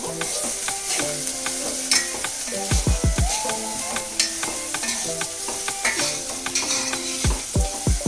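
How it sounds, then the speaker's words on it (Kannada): Ginger garlic paste fries with fried onions in a brass pan, giving a loud continuous sizzle broken by repeated scraping stirs and a few metallic knocks of the spoon against the pan. "ಇದಕ್ಕೆ ನಾನು ಜಿಂಜರ್ ಗಾರ್ಲಿಕ್ ಪೇಸ್ಟ್ ಹಾಕ್ತೀನಿ. ಇದನ್ನ ನಾನು 1 ಮಿನಿಟ್ ಫ್ರೈ ಮಾಡ್ಕೊತೀನಿ"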